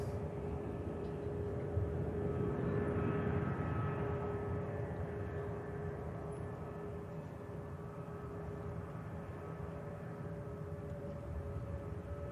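Steady, broad jet roar from an aircraft rolling and climbing out on departure at Manchester Airport, continuous and moderately distant with a faint tonal whine, heard alone without talk.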